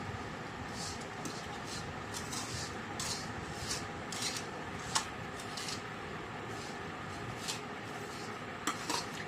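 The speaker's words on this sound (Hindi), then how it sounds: "इसको खूब अच्छी तरीके से सिवई में मिक्स कर लेंगे" Vermicelli is stirred and mixed with sugar syrup in a pan, with repeated scraping and light metallic clinks of a spoon against the pan over a steady background hum.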